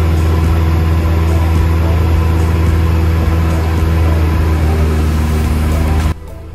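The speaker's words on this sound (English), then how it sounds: "We will start leaning the mixture until we notice a small rise followed by a small drop of RPMs." A Cessna 172 piston engine runs at cruise RPM while the fuel mixture is leaned, giving a loud, steady, droning hum with a strong low fundamental; it continues unbroken until a slight drop in level near the end.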